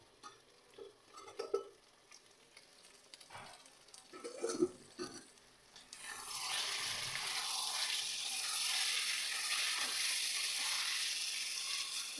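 Mutton being fried and stirred in a wok, a few quiet scrapes and clatters, then a loud steady sizzle that starts suddenly and holds to the end.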